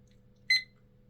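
A kitchen timer gives a single short, bright electronic beep burst, loud against a quiet room with low background hum, while jewellery is being made from pure silver clay.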